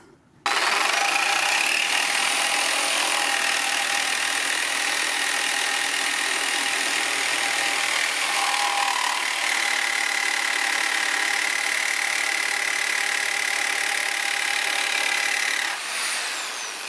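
Reciprocating saw fitted with a Bosch metal-cutting blade cuts through metal, a steady loud buzzing drone that runs almost without a break for about sixteen seconds, with no talk over it.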